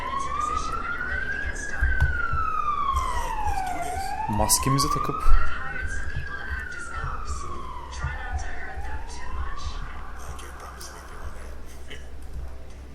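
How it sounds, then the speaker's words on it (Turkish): An ambulance siren wails in the background in slow rising and falling sweeps, moderately loud, while a person talks over it. "Bu arada arkadan ambulans geçiyor."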